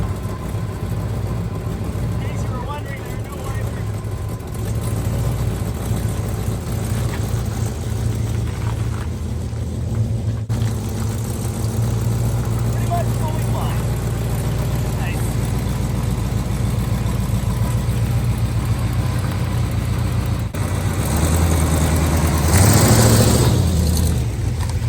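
A 1970 Dodge Dart Swinger with a sticky throttle runs at a steady, rough idle, a low throbbing engine hum that holds throughout, swelling briefly near the end as it picks up revs.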